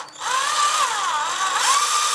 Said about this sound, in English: Always start slow with the drill, and then once you feel it bite,